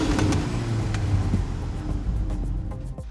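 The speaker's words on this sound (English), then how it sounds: "If I close the valves, you can hear the difference when it's closed." A VW Golf 8 R with valved exhaust idles and burbles nearby, a steady low engine rumble with faint ticking, sounding muted as with the valves closed.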